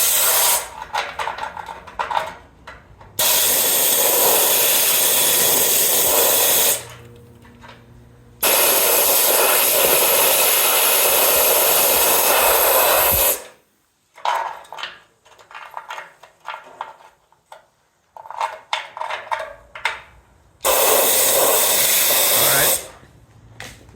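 Compressed air blasts loudly through a 1969 El Camino frame in long sustained bursts of harsh hissing, separated by quieter stretches of clanking and rustling.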